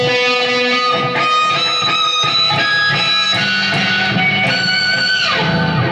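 An electric guitar plays a bluesy lick with bright, ringing harmonic tones mixed in, close and alone.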